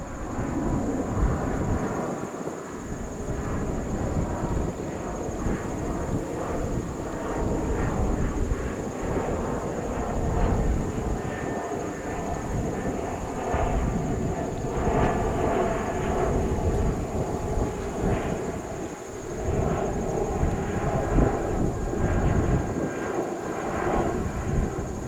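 An airliner on runway 22 right at JFK Airport, a loud continuous jet engine roar with deep rumbling that holds steady throughout, heard from nearby with no talking.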